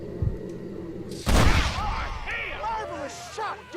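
A single loud, close gunshot blast from the western game Red Dead Redemption, followed by a lingering rumble and ringing tail while game voices and sounds continue underneath.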